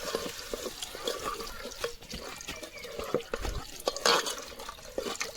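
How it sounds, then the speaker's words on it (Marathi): Water poured into a cooking pot of masala spices with turmeric and chicken masala, cooked outdoors in a forest; a steady splashing pour runs throughout, fairly close and moderately loud, with no talk. "तर आता आपण पाणी घालूया."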